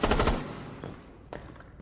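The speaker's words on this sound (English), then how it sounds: "Let's take a listen to the gunshots and the footsteps and see how different they sound." Rainbow Six Siege gunfight in a big echoey room: a rapid burst of automatic gunfire with a long reverberant tail, then a couple of fainter thuds like steps or impacts.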